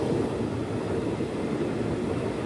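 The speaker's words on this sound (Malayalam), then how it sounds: "12:10 ട്രെയിൻ ഇപ്പോൾ തിരൂർ റെയിൽവേ സ്റ്റേഷനിലേക്ക് എത്തുകയാണ്." Jan Shatabdi Express pulling into Tirur railway station, a continuous loud low rumble of wheels and carriages rolling close by, steady and without voices.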